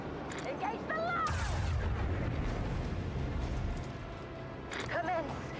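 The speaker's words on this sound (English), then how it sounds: "Commence the symphony of macro cannons" Macro cannons fire in Warhammer 40k: Rogue Trader as a sustained, heavy booming barrage that rumbles on for several seconds, with a voice speaking over it at the start and end.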